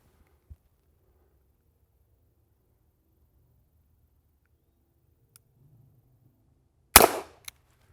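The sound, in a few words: Smith & Wesson Model 14 revolver firing the last shot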